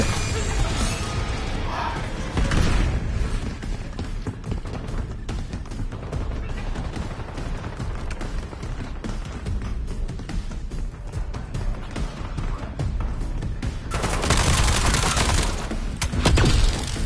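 A shotgun fires in the Call of Duty Black Ops 7 campaign amid dense, continuous battle noise, with loud blasts, crashes and shattering layered throughout and voices under the din.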